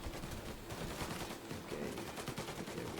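Gunfire in the video game Mafia Definitive Edition: a dense, continuous fusillade of rapid shots, fairly faint and steady throughout with no voices over it.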